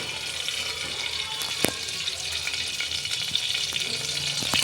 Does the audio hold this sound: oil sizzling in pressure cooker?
yes